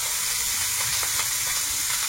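Chopped onions sizzle in a hot pan over an outdoor cooking setup, a steady bright frying hiss with faint stirring scrapes, close and continuous with no voices.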